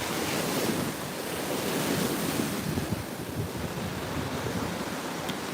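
Surf washes continuously onto a beach, a loud, steady roar of breaking waves mixed with wind buffeting the microphone, with no voices.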